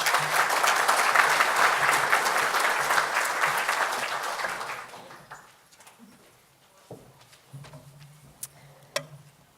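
Conference audience at a mental health event applauding as the keynote speaker comes to the stage, dense sustained clapping for about five seconds that fades to scattered claps and quiet room noise.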